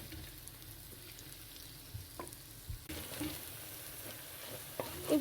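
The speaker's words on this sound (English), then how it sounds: "So now we're adding tomato and chili after we mix until tomato melts." Tomato and chili sizzling in a pan while being stirred, a steady soft frying hiss with occasional scraping taps of a utensil, quiet and close, with no one talking.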